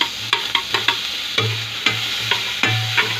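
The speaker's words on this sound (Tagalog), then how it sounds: "Igisa muna natin yung sibuyas." Onion and tomato stir-fried in a pan for pork sinigang, with a steady close sizzle and a run of sharp spatula scrapes and taps on the pan, no voices.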